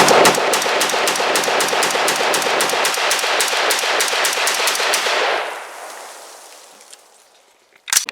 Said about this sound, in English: let's cut over to the range and show a couple of mags going through it